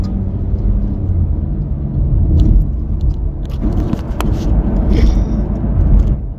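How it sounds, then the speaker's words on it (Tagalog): Car driving along a road, a steady low engine and road rumble filling the cabin throughout, with a few faint clicks and rattles on top and no talking. "I'm driving."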